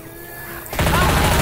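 Gunfire aimed at zombies in Left 4 Dead 2, a sudden loud, dense burst of shooting that starts abruptly after a quieter moment and continues to the end.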